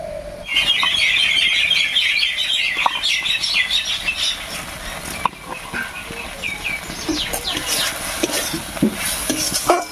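Gobindobhog rice being stirred and sautéed with fresh pointed gourd in a pan, with steady scraping and sizzling close by, punctuated by sharp clicks of a spoon against the pan, and no talking.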